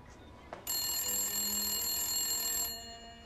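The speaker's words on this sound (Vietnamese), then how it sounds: "Anh đi nghe điện thoại chút" An indoor telephone bell rings in one sustained, bright electronic burst lasting about two seconds, clear and alone in a quiet room.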